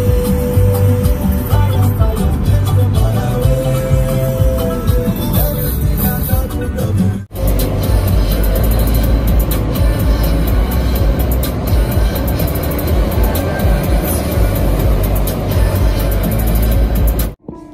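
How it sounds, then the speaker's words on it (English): Loud, continuous road and engine rumble from inside a car driving a long stretch of highway in Japan, steady throughout with a brief dip partway through and no talking. "We've been driving for about 4 hours"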